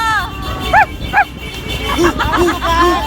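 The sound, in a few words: person imitating a barking dog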